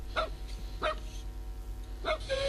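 A dog gives three short barks, spaced apart and fairly close, over a steady low background hum.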